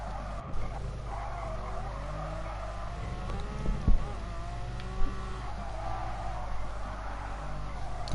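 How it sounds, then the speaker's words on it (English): A Ferrari race car in the Gran Turismo Sport video game drives under a steady engine drone, with exhaust crackles and pops breaking through, two sharper bursts standing out midway. "I love the cracking and popping of an exhaust."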